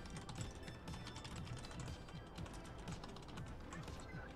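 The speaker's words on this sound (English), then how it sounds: "as I'm typing my Discord message really quick" Rapid typing on a computer keyboard while writing a Discord message, a steady stream of close, quick key clicks with no pauses.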